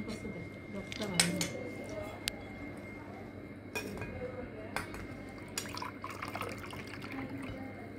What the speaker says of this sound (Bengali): কতটি পানি পড়ছে দেখ